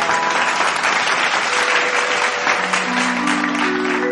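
Loud, sustained audience clapping greets an Odia folk singer on a stage request show, a dense crowd roar of hands filling the whole stretch without pause.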